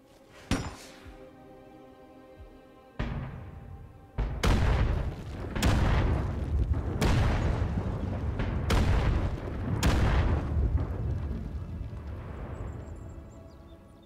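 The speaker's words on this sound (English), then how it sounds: "launch an artillery strike here" Artillery strike explosions in State of Decay 2 land as a string of about seven heavy booms, each sharp blast rolling into a rumble, with the impacts coming faster and overlapping toward the end.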